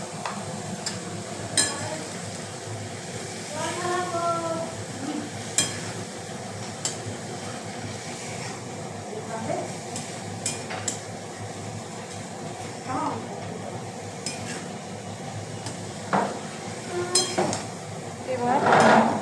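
Mola fish curry being gently stirred in a pan, with soft scraping and faint sizzling running steadily throughout, occasional light clinks of the utensil, and a brief louder rustle near the end.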